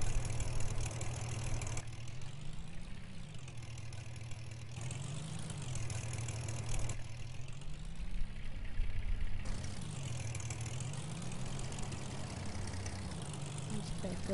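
An old beater truck engine idles in the video game Farming Simulator, a low steady rumble that swells and eases in slow cycles, with a voice speaking over it.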